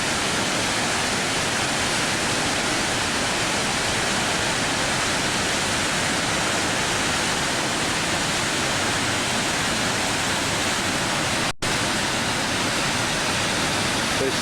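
Water from Swampa Falls pours and boils into a canyon below, a loud, steady broadband roar that continues unbroken with no voices, apart from a brief dropout near the end.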